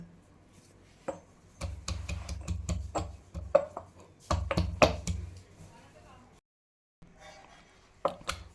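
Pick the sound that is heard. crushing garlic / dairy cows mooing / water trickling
crushing garlic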